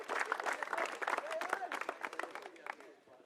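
Crowd applause at a youth cricket awards presentation for the U16 and U18 Nationals at Prep Oval, a steady patter of clapping hands under a speaking voice, fading toward the end.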